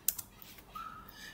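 Typing on a computer keyboard while searching in a web browser: a few faint, scattered key clicks in a quiet room, with no voices.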